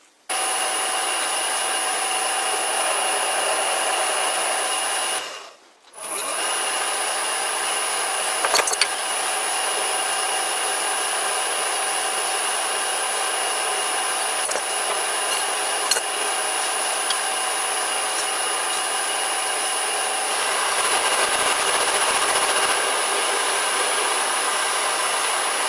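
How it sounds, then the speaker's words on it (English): A small lathe fitted with a 13mm drill chuck runs steadily, motor on a new VFD, with a continuous high-pitched whine and rubbing drive noise that pauses briefly near the start, then resumes. "Let's start drilling."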